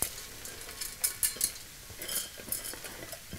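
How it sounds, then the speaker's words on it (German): Hard, pre-washed lentils tipped into a hot wok for an Indian tandoori curry and stirred, giving scattered scraping and clinking of a utensil against metal over a soft sizzle, with a few louder knocks near the start. "Ich gebe jetzt die Linsen hinzu. Die habe ich schon abgewaschen. Ihr hört, sie sind noch hart."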